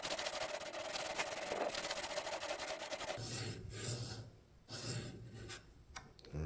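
Knife blade drawn across a sharpening stone on a TSPROF Pioneer fixed-angle sharpening system, a steady rasping scrape that turns into separate stroke-by-stroke rubs in the second half, with no voices.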